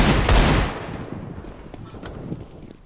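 A loud burst of gunfire in the video game CSGO opens with heavy booming shots, then gives way to scattered quieter reports and a decaying echo.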